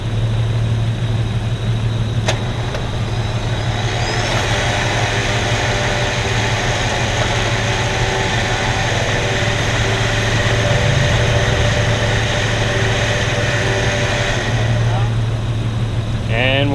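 A winch on a Jeep, treated with QuantumCoat, runs steadily with the engine idling underneath, giving a continuous close whirring drone that lasts most of the stretch before easing near the end.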